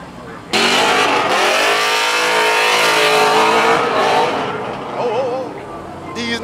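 Trucks sliding and revving at a street takeover, a loud sustained engine roar with tire squeal that starts abruptly, then eases slightly toward the end, with crowd voices underneath.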